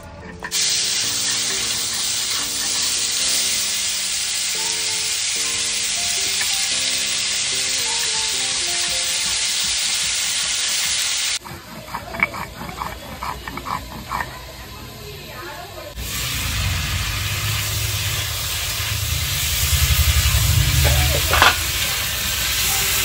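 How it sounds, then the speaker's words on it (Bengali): Eggplant and other vegetables fry in oil in a pan, giving a loud, close, steady sizzling hiss that continues throughout, with a voice heard in places. "এইভাবে আমি সব সবজিগুলো ভেজে নেব"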